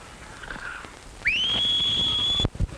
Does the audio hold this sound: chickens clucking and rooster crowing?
no